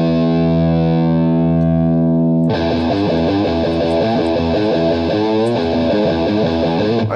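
An electric guitar through a BandLab amp-simulator preset rings out one heavily distorted sustained chord, then shifts into a loud, dense run of driven riffing with a gritty, saturated tone.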